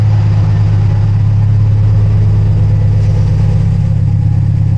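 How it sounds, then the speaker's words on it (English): A Subaru WRX STI with an EJ20/25 boxer engine idles steadily and close by, its exhaust hung on zip ties, giving a loud, even, deep rumble with no speech. "Exhaust doesn't sound bad either."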